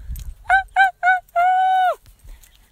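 A person imitates a crow's call, giving three short harsh caws followed by one long drawn-out caw, close and loud, with a quiet pause around the calls.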